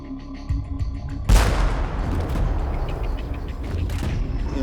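A volley of gunfire against rebels by the Neva erupts as one sudden loud crack after a quiet lead-in, then rolls off into a long reverberant rumble.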